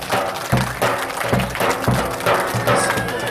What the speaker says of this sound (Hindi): तालियों से जोरदार स्वागत किया जाए।